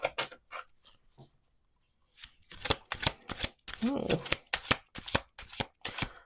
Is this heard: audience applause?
no